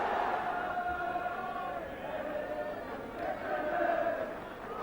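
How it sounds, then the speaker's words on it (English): A large football crowd at Tannadice gives a sustained roaring, cheering swell that rises and falls across the stretch. "Actually, it's a very good crowd at Tannadice today"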